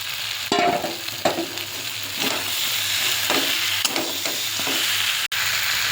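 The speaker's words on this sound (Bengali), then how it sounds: "এবার ভালো করে আরেকটু কষে নেব। ভেজে রাখা মাছের মাথাগুলো দিয়ে দিচ্ছি।" Catla fish heads and spices sauté for muri ghonto in a hot pan, a continuous close sizzle with repeated scraping strokes of a spatula stirring at a slow, steady rhythm.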